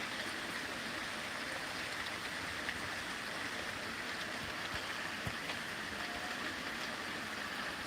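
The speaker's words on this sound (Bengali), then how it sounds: "দেখো চারিদিকে বৃষ্টির মাঝে লাইভটা করছি" Steady rain falling outdoors, a dense, even hiss of drops with no let-up, heard at moderate distance with an occasional faint tap.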